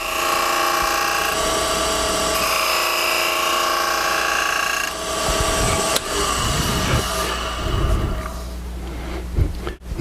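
A wood lathe turning beads in a piece of wood with nail holes, a steady motor hum with a whining tone and the gritty scrape of the cutting tool, growing rougher and more uneven toward the end.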